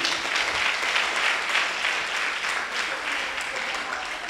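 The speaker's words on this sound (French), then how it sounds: "je vous demande de chaleureux applaudissements pour eux" Warm, sustained applause from a crowd at a village tribute and discovery ceremony in Ravine-Sèche, steady and fairly loud throughout with no voices on top.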